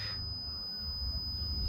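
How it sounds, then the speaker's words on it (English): A multimeter gives a steady, thin continuity beep while its probes touch two metal contacts on a connector of a Lay Z Spa Airjet pump unit; the tone is quiet and sustained against a low hum. "a solid beep. That means that it's making a connection"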